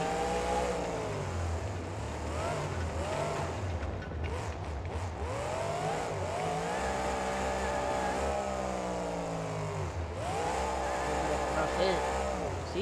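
Zombie Hunter monster truck at a motorsport event in Anaheim, its engine revving and roaring in rising and falling surges, loud and near, with an announcer talking over it.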